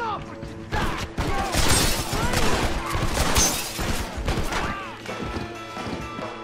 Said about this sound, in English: Whoa, who's shooting me?